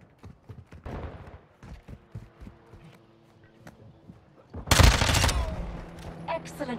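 Gunfire in a Modern Warfare II multiplayer match: scattered sharp shots and short bursts crack out in the first seconds, then a loud, dense volley erupts midway and rattles on for a couple of seconds before tapering off.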